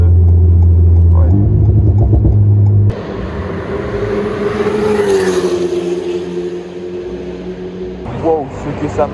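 Ferrari F430 Challenge race car on a track, engine whine first heard steady, then a cabin-like rumble with rising and falling pitch under the car's noise, with brief voices near the end.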